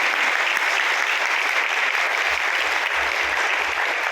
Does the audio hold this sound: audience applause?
yes